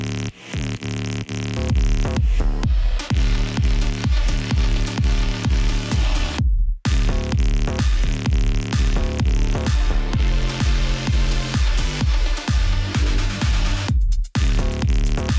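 A progressive house track plays loudly with heavy sidechain pumping, giving steady rhythmic swells on every beat over a thick bass and synth bed with reverb, broken briefly by a couple of short silent gaps.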